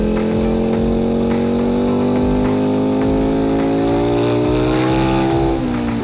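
Ducati Panigale V4 SP motorcycle on a tyre warm-up lap, its engine droning loud and close in a steady, sustained tone that rises slowly in pitch and then dips near the end.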